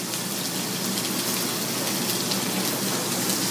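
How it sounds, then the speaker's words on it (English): Fresh pasta going into a pot of boiling water while shrimp cook alongside for scampi, a dense steady hiss and bubbling rush close by, unbroken and free of talk. "my fresh pasta goes into the boiling water"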